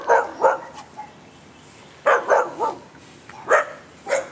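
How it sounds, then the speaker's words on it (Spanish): A dog barks in three separate clusters of two or three sharp, fairly close woofs, each followed by a short pause of quiet. "Silencio, perro!"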